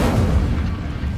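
An Incendio fire spell cast in the Hogwarts Legacy video game, a brief, loud, booming whoosh of flame that rumbles for about a second.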